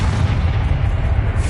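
A Confringo spell blast in a wizard video game, a dense, sustained low rumbling boom that fills the short moment loudly with no voices over it.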